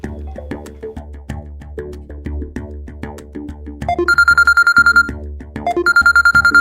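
A melodic phone ringtone plays over background music, then a bright, rapidly pulsing electronic ring sounds twice in short bursts.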